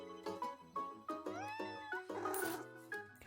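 Cat meowing in the video game Minami Lane, a run of several short, fairly close meows with rising and falling pitch, set against soft game music and effects.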